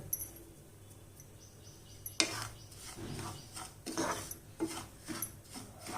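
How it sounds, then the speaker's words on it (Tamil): Samba wheat rava (semolina) being stirred and roasted in ghee in a pan for upma: scraping, rubbing strokes of a utensil against the pan, soft at first and then louder and more frequent, with no talking. "இது லைட்டாக ஒரு 2-3 நிமிஷம் வறுத்தா போதும்"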